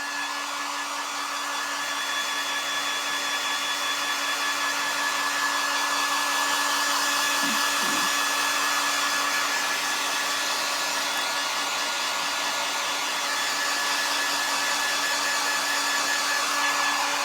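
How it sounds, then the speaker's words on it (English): A very hot heat gun blows steadily over thick paint on a cardboard craft, a constant loud whooshing hum like a hair dryer that carries on without a break, with no talking. "This heat gun gets really hot."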